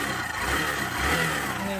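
A Hero Glamour 125 BS6 motorcycle engine revs steadily up close, its note rough and rattling, with a constant loud drone throughout.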